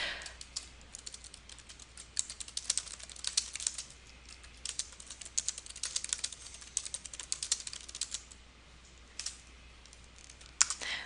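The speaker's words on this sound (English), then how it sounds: "go ahead and type in the remaining items" Typing on a computer keyboard while entering list items in PowerPoint: a run of quick, irregular key clicks, close and fairly quiet, continuing steadily with a few louder taps.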